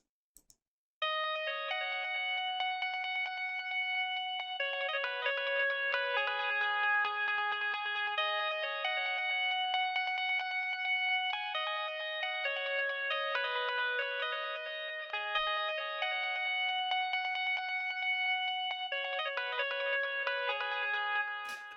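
Soloed melody from the Dream Audio Tools Indie Fingers Vol 3 multi-instrument, a bright plucked, bell-like tune with chorus and echo effects, playing steadily alone after a brief pause at the start.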